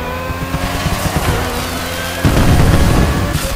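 A race car engine in The Crew Motorfest racing game revs hard under a steady roar, with the engine note and road noise rising sharply partway through.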